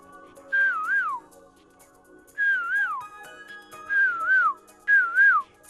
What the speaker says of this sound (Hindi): या फिर कोयल की कुहुक।